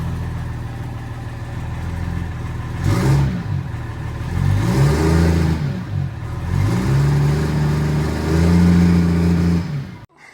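A freshly started car engine with a Force Induction turbo runs loud and close, idling roughly and rising in two sustained revs before cutting off at the end.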